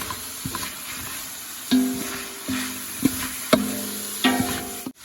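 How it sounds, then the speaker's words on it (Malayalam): Chicken, vegetables and celery being stir-fried together for fried rice: a steady sizzle broken by several loud, rhythmic spatula clanks and scrapes against the pan, with no talking. "ഇതാ അപ്പോൾ ചിക്കനും ഈ വെജിറ്റബിളും ഒന്നായിട്ട് നമുക്ക് മിക്സ് ആക്കാം"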